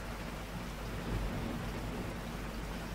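Steady rain in Resident Evil 4 HD Project falls as a dense, even hiss with a low rumbling bed, loud and unbroken throughout with no voices.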